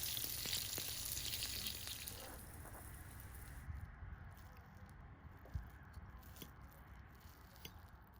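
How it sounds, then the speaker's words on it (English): Seitan steaks sizzle and crackle in a hot pan, close by, loud at first and then settling into a quieter steady fry with occasional pops. "Here are the steaks frying."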